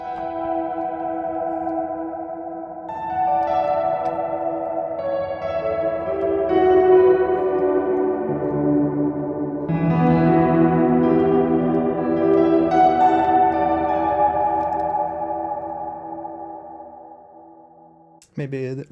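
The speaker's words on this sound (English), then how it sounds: "Let's see how the reverb sounds on a piano patch." Sustained sampled piano chords (Native Instruments Gentleman) through a BLEASS reverb plugin, ringing out with a long, washy reverb tail, notes blurring into a spacious, bell-like wash before cutting off abruptly.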